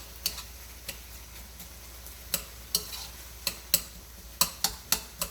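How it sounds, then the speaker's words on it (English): Mixed vegetables with garlic and onions are stirred in a pan, a spatula clicking and scraping against the metal in irregular sharp taps over a faint, steady sizzle. "So you just keep mixing them"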